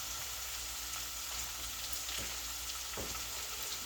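Margarine and cheese fry in a pan with okra, giving a steady, close, even sizzle with a couple of faint stirring knocks.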